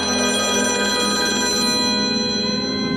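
Telephone ringing continuously with a loud, steady electronic bell tone, close and alone, no voices.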